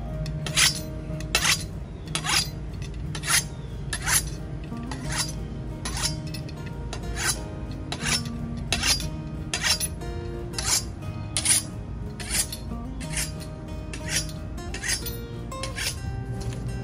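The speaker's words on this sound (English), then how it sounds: "Here we are sharpening the machete." A machete blade is sharpened outdoors in a garden with a file in steady, regular rasping strokes, about one per second. The strokes are bright and metallic and repeat throughout over a low background hum.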